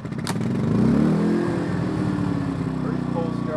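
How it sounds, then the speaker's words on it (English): A small engine fires up after the choke is pulled and settles into a rough, pulsing idle, with a quick clatter at the start and a chugging rhythm that holds steady; a voice talks over it. "Pull the choke, turn the engine on, throttle plate off"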